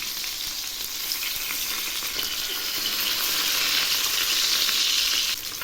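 Bata fish, just flipped, fries in hot oil with a steady close sizzle and crackle that swells louder midway, then drops back slightly near the end.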